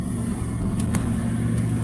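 A truck drives along a road between Zittau and Löbau, with a steady low engine drone and road rumble, continuous and close, with no talking.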